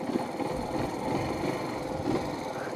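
A motorcycle engine idles close by, a steady, even rumble with a busy mechanical clatter that holds constant throughout, with no voices.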